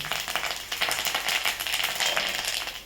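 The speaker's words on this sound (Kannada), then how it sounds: "ಒಗ್ಗರಣೆ ಚಟಪಟ ಅಂದ ಮೇಲೆ" A tempering of chillies and crushed asafoetida spluttering in hot oil for an okra stir-fry gives a dense, fast crackle of pops that runs close and loud throughout, with no voices.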